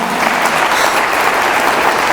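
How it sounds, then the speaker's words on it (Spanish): A church congregation applauding during a Sunday sermon, dense sustained clapping from many hands, loud and close, filling the whole moment without pause. "dale un aplauso al Señor"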